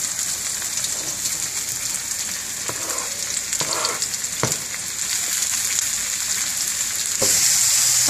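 Mushrooms and garlic sizzle steadily in a pan with fried onions, a dense, even crackle holding close throughout, with a few faint clicks midway and the sizzle brightening near the end.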